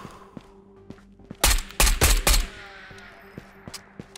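Rifle gunfire in the video game Ghosts of Tabor, a loud close burst of several rapid shots in quick clusters, cutting through quieter clicks and faint game ambience before and after.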